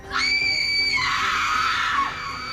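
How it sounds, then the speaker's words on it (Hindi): A woman's scream in a village in Mandla: one long, loud, shrill cry held for about two seconds, dropping in pitch partway through before breaking off, heard alone over a faint background. "जैसे ही रामधुन की आवाज बंद हुई, एक चीख ने पूरे गांव को हिला दिया"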